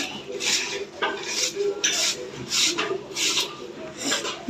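Knife slicing carrots into round pieces on a cutting board, a steady series of close scraping, tapping cuts repeating every half second or so with a faint voice underneath.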